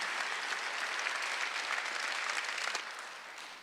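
A church congregation at a Sunday worship service applauds together, a dense steady wash of many hands clapping at a distance, sustained throughout and fading slightly toward the end, with no talking over it.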